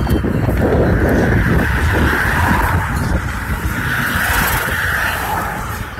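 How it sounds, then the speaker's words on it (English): Several cars pass by on a concrete road on a warm February day, a broad continuous rushing roar with tire hiss and wind buffeting, steady and fairly loud throughout with no talking. "here comes a bunch of cars coming"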